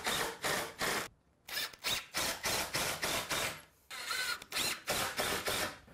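Screws are driven to fasten a wooden piece onto a beam fitted with hinges, heard as a string of short, close whirring bursts separated by brief pauses, with no talking.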